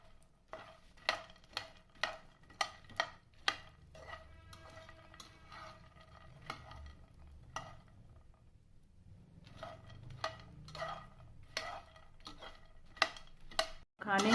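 Fox nuts (makhana) are stirred in a pan with ghee, a spoon scraping and clicking against the metal in a steady rhythm of sharp taps, close and fairly loud, pausing briefly before resuming.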